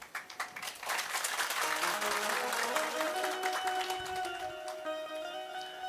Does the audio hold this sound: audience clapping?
yes